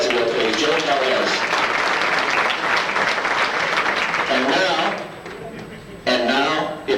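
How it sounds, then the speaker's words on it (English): An audience at an auto racing fan club awards banquet breaks into applause while someone speaks loudly over it; the clapping thins out toward the end as his voice continues. "Give a nice round of applause, please."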